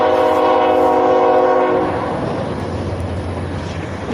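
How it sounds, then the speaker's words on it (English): A train passing near railroad tracks by Lake Houston sounds a long, loud, steady horn, then the horn stops and a rumbling roll of wheels on rails continues. "There's a train."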